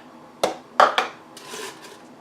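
Ice cubes for a smoothie dropping into a container, three or four sharp clattering knocks in quick succession followed by a softer rattling settle, close and clear with no talking.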